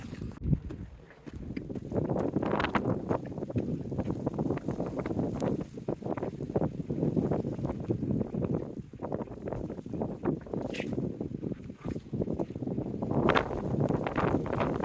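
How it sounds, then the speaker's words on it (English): Strong gusty wind roars steadily across the microphone atop a mountain fire lookout, rumbling and buffeting without a break; no voices are heard. "this wind is no joke. And it's picking up pretty good."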